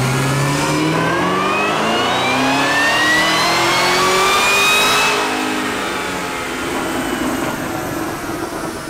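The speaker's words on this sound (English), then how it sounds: "Matt starting on the ZL1" A 1000-horsepower Stage 4 sixth-generation Chevrolet Camaro ZL1 engine revs hard and close, its pitch sweeping upward to a peak around five seconds before easing back to a steady, loud idle with no talking.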